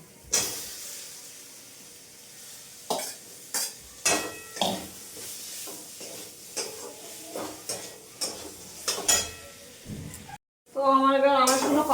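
Vegetables with a little chilli powder sauté in a pan, with intermittent stirring scrapes under a speaking voice, then a sudden loud sizzle at the end.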